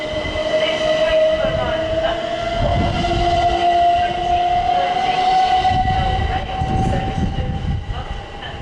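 A train rolls past a trainspotting spot, its steady, loud rumble and clatter running throughout, with a sustained horn-like tone rising slowly across the whole pass.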